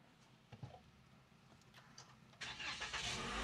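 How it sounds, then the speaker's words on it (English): A 2020 Toyota Corolla SE engine with a knocking fault cranks and then catches, rising into a loud steady running roar after some quiet shuffling and clicks. "When we start our car"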